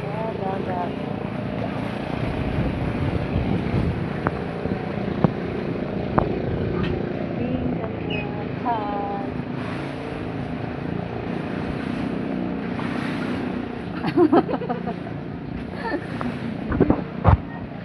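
Seaside wind buffets the microphone in a steady, moderate roar along the shore, with faint background voices and small chirping sounds mixed underneath.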